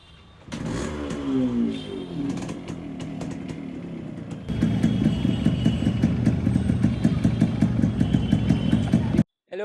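Modified Yamaha RX 100 two-stroke motorcycle engine idles and then revs up harder, a rapid raspy pulsing that turns louder and choppier partway through, close up with brief voices over it.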